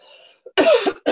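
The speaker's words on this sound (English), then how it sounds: "Sorry, I have a cough." One person coughs twice, a short harsh burst followed by a second quick cough, close and clear.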